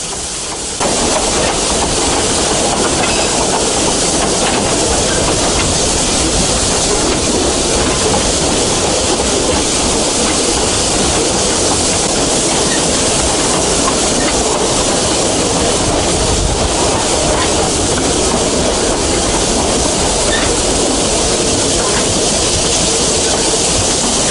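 Steady loud rumble and rattle of a 100-year-old train in motion, heard from on board with continuous broadband noise, hiss and faint clickety-clack throughout, no voices.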